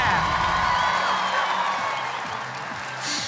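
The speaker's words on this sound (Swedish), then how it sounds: "Då tar vi en stor applåd för kvällens 2 finalister." A large arena crowd at a Swedish televised song-contest heat applauds and cheers for the night's two finalists, a steady dense wash of clapping and whoops that holds throughout.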